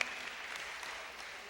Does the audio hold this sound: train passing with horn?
no